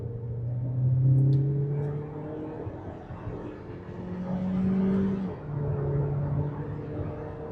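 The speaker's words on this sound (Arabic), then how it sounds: "محرك ال 1600 مخلي العربيه تتنفس براحتها" A Chery Arrizo 8 with a 1600 cc engine rises in pitch as it accelerates, eases briefly, then pulls up again; a steady, close drone with no voices.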